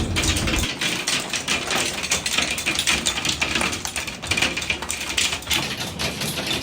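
Hail hammers the roof and shell of an Airstream travel trailer during a Nebraska hailstorm, a dense, loud, continuous clatter of rapid impacts with no break.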